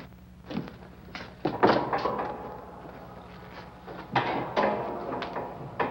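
A door being opened to reveal a folding bed, with a series of wooden thunks, knocks and rattles in irregular bursts, close and fairly loud over a low background hum.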